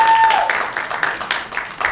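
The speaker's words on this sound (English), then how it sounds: "How about a nice round of applause for the team?" Audience applauding a cooking team after a bananas Foster flambé demonstration, a steady wash of clapping sustained for a couple of seconds with some crowd noise mixed in.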